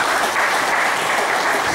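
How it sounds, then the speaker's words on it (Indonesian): Loud, dense audience applause at a gathering in Semarang, Central Java, a close, steady wash of clapping that lasts the whole short moment. "Tepuk tangan untuk kita semua."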